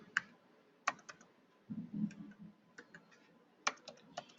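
Keystrokes on a computer keyboard during a Python data science tutorial, sparse clicks in small bursts with pauses, fairly close and quiet, no talking.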